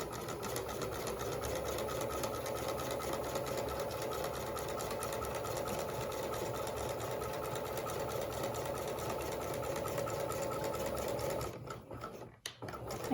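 A sewing machine runs steadily, stitching down fabric tucks in a continuous fast mechanical whir. It sounds close and even, then stops near the end with a few brief handling sounds and no talking.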